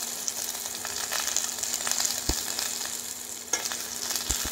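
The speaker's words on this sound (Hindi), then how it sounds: "ये मिर्ची और लहसुन जब हल्के से गोल्डन हो जाएंगे तब तक हम इसको पकाएंगे" Green chilies, garlic and finely chopped ginger fry in a pan for a raw tomato chutney, giving a steady soft sizzle with a few sharp stirring knocks, close and alone with no talk.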